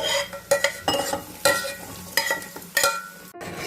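Cashews and plums frying in a pan, a continuous light sizzle under sharp, rhythmic scrapes and clinks of a spoon stirring roughly every half second.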